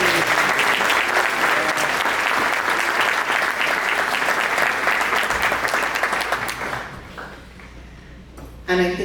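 Luncheon guests at a country club applaud loudly and steadily, thick clapping filling most of the stretch before thinning and fading out near the end, then a short burst returns at the close.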